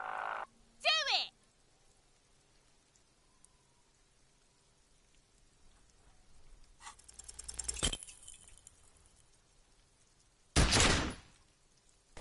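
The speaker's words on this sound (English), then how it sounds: "You hear an explosion within the weapon in your hands." A weapon fires in the video game Disco Elysium, with a swelling rumble cut off by a sharp loud blast, then a second harsh burst a few seconds later against a quiet background.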